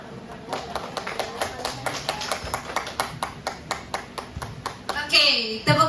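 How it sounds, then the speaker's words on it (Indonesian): A school audience at a positive-culture dissemination event in Padang claps for the presenter: steady, moderately loud hand claps with a few sharp taps, swelling into a brief burst of cheering and voices at the end. "tepuk tangan dulu dong Bapak Ibu untuk pemateri hebat kita"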